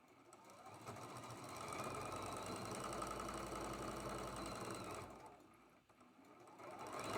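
A sewing machine runs steadily, stitching a seam through pieced quilt block fabric, its motor whirring and needle chattering loud and close, easing off briefly near the end before picking up again.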